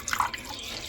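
Water splashes and drips in a few quick close drops while a prayer garland is rinsed for an Ayyappa devotion, then settles into a soft trickle with no voices.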